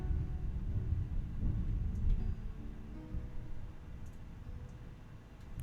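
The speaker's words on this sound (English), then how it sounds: "Also, there is thunder outside" Low, distant rumble of thunder outside, rolling softly and steadily through the whole stretch with faint ticking sounds on top.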